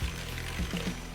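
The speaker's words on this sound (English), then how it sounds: "We pour 1 egg at a time into the bowl" Beaten egg pours into a mixing bowl of chocolate chip cookie dough, giving soft, brief plops over a steady low background hum.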